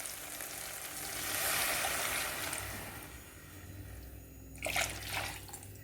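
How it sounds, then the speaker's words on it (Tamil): Spice paste mixed into tamarind water hisses and sizzles softly in a pan for okra puli kuzhambu, with a gentle liquid pour and a few spoon knocks near the end. "அதை கலக்கி வச்சுருக்கிற புளி தண்ணியில் அதை ஊற்றிடலாம்"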